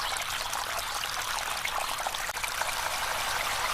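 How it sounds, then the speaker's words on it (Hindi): Steady rushing water gushes continuously, a bright hissing splash with no pauses, close and moderately loud. "एक तेज पानी का फंवारा निकला"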